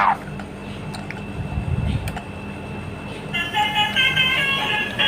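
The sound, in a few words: toy Tayo bus playing telolet horn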